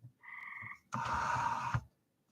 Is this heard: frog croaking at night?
yes